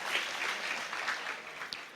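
A crowd at a Kenyan political rally claps for Mwai Kibaki, a steady wash of applause with a few sharper claps, with no voices speaking over it.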